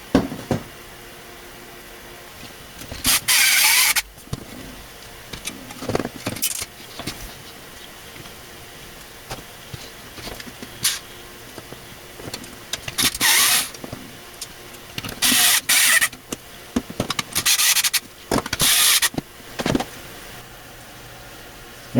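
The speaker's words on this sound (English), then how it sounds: "now we'll just go ahead and reinstall this back into the drive cage" A hard drive being slid back into a PC's drive cage during a Pentium D to Athlon II upgrade, heard as a few short, close metallic clicks and clunks in otherwise quiet room tone, with no talking.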